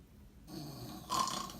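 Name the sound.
imitated snoring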